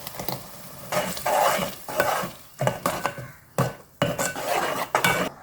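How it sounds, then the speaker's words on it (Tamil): Ground masala paste and tomatoes sautéing in hot oil for chicken biryani, a steady sizzle broken by repeated stirring scrapes of a spoon against the pot, close and fairly loud with no talking. "நல்லா வந்து சொறு சொருன்னு சத்தம் வரணும்"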